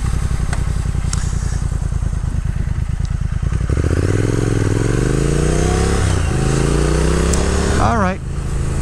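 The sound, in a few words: 2022 Triumph Speed Twin motorcycle ridden spiritedly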